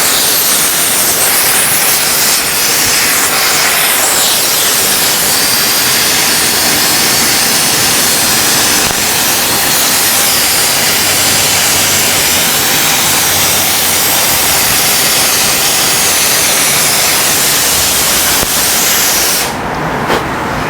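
A torch roars steadily and loud for about twenty seconds, warming an automotive radiator tube during a radiator repair, its broadband hiss continuous with a brief change near the end.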